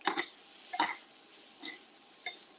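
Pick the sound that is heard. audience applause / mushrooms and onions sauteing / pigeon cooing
mushrooms and onions sauteing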